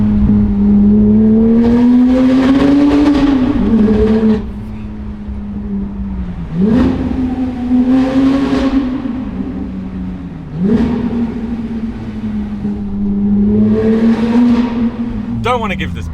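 A Porsche GT3 engine revs hard and loud, pitch climbing through several gear changes with brief dips between pulls, close and continuous.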